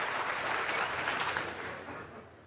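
A snooker crowd at a Shanghai Masters semi-final gives warm applause after a shot, a dense patter of clapping that swells and then slowly fades, with no talk over it.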